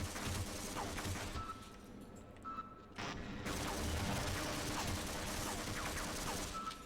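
Automated turrets in Half-Life fire in rapid bursts of sharp shots, mid-distance, with brief pauses and a sudden loud crack midway, steady background noise throughout.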